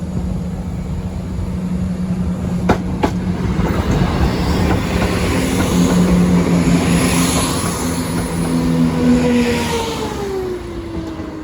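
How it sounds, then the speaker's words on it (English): A train rumbles steadily past at Sleaford East level crossing, its loud, sustained roar holding while a low warning tone and a horn-like pitch slide through the passing. "A train is approaching, everybody."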